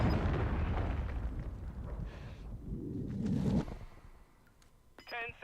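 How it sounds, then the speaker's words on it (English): Cruise missile strike in a Call of Duty match, a heavy rumbling blast that swells for a few seconds, then cuts off and fades, with faint game beeps and clicks afterward. "Hostiles launched a cruise missile."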